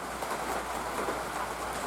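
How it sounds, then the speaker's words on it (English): Steady rain patters on a clear roof overhead, a continuous dense drumming with no voices. "Excuse the noise of the rain"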